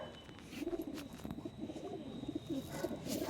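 Pigeons coo in soft, repeated throaty phrases at a pigeon sale, several birds overlapping close by over a faint background hum, no voices.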